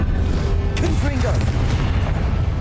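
A Confringo spell in Hogwarts Legacy detonates with a deep, rolling boom, accompanied by sweeping magical whooshes and swirling tones, with faint game effects continuing underneath.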